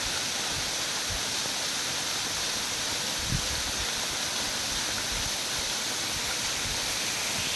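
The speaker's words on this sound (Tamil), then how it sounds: "அற்புதமாக அருவி சாரல் விழுந்துட்டுருக்கு" A waterfall in the Kolli hills pours steadily, a dense, loud, unbroken hiss of falling water and spray close by, with only faint brief thumps underneath.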